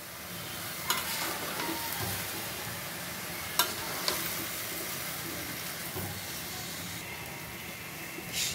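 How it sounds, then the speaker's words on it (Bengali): Leafy greens with green chilies and turmeric being stirred in a hot pan, a soft continuous sizzle and hiss broken by a few sharp clinks and scrapes of the spoon against the pan. "শাকগুলো দেখো সুন্দর করে নেড়ে চেড়ে নিলাম"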